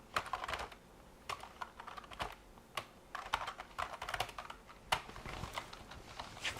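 Quick bursts of typing on a computer keyboard, irregular clusters of crisp key clicks with short pauses, close and clear with no talking.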